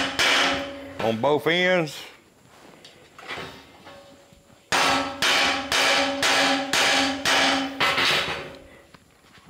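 Repeated hammer blows flatten the end of steel tie wire for a custom hot rod grille on a Model A Ford coupe, a steady run of sharp, loud metallic strikes after a brief spoken phrase and a few scattered knocks.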